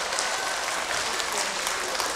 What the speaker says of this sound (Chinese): 同意他是流氓的可以鼓掌了。